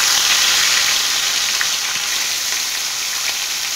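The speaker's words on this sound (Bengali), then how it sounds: "এইবার মাছগুলোকে আমি ডিপ ফ্রাই করে নেবো।" Live catla fish deep frying in a kadai of very hot oil gives a loud, dense, continuous sizzle and crackle that holds steady throughout, with no voices.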